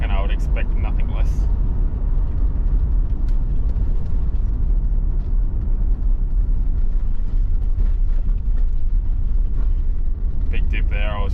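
Steady low rumble of a Ford XE Falcon cruising on the road, heard from inside the cabin, with continuous road and engine noise and a voice speaking briefly near the start and end.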